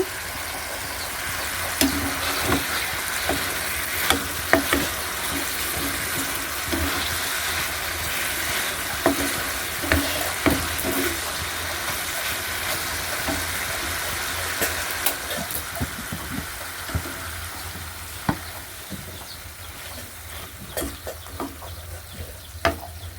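Food cooks in a pot on a stove, a steady sizzling bubble close at hand with frequent small clicks and pops scattered throughout, and no talking.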